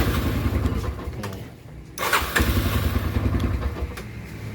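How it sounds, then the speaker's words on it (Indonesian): A Yamaha Scorpio motorcycle with an electric starter cranks and fires: the engine runs near and loud, drops out briefly, then restarts and settles into a steady idle. "sekarang kita tinggal tes, kita nyalain motornya"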